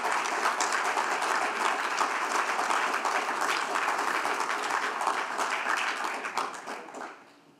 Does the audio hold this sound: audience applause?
yes